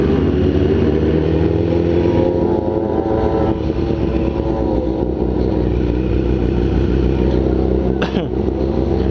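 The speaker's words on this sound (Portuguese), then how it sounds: "É muita moto" A dense, steady roar of many motorcycle engines rumbling together close by on a night ride, continuous throughout with a brief sharper whine near the end.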